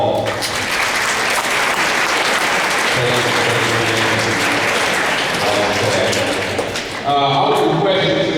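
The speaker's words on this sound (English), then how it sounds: "let's give him a nice round of applause" A school audience in a gym applauds the assistant principal and basketball head coach with a loud, continuous burst of clapping and crowd noise. Someone speaks briefly as the applause continues.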